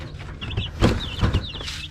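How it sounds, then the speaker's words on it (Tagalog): Rhode Island Red hens and young chicks in a backyard coop, with steady close clucking and high, thin chick peeps running throughout and no talking. "ito na mga kanipi yung isang Rhode Island Red yan laki na no"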